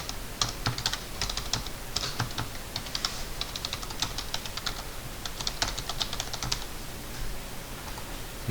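Rapid, fairly quiet clatter of a computer keyboard being typed on steadily while entering AutoCAD commands, with occasional keystroke bursts and no talk.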